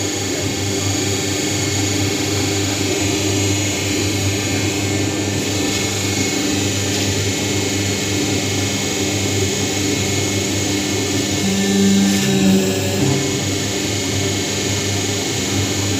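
A semi-automatic buffet paper plate making machine with a heated die runs with a steady, loud mechanical drone that holds constant throughout, with a brief extra clunk near the end and no talking.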